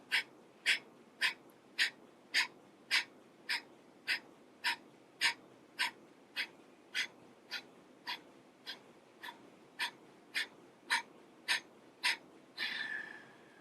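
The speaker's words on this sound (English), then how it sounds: "And then begin your breath of fire." Breath of fire yoga breathing, a steady run of about twenty sharp, rhythmic nasal exhales roughly every half second, close and clear, ending in a longer, softer exhale.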